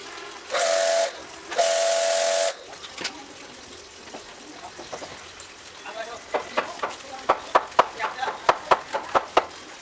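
A foam cannon sprays shampoo foam onto an NS 400 motorbike in two short, loud bursts of hiss. Scattered clicks and taps follow, growing busier toward the end.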